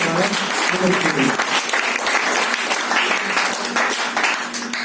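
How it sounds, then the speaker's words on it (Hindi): Loud, close applause fills a hotel meeting room during a sales training session, dense clapping from a packed audience with some voices mixed in at the start. "एक बार जोरदार ताली हो जाए आपके।"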